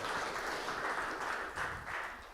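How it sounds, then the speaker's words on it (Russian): Audience applause fills a hall during the culture minister's annual report in Yakutia, a steady, dense wash of many hands clapping at moderate distance, fairly soft throughout and tapering slightly toward the end. "А где аплодисменты-то?"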